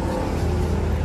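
Engine of a modified motorcycle fitted with a Kawasaki engine, heard nearby as a steady mid-pitched running rumble for a brief moment with no talking.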